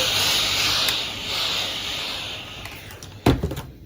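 Steamer hissing in a steady broadband rush while felt is blocked for a classic pillbox hat, fading gradually, then a couple of sharp knocks near the end.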